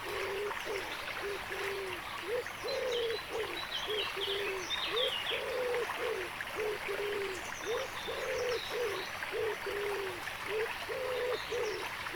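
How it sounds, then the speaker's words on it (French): A common wood pigeon coos steadily in a rhythmic series of soft, mid-pitched calls by a stream or pond edge, with faint chirping birds and an even outdoor hiss behind. "Ici, un pigeon ramier"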